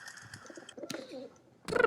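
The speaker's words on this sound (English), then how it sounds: "It's a pigeon." A pigeon coos at a window, a few soft, low throaty calls in the middle of an otherwise quiet moment, followed by a louder burst of noise at the end.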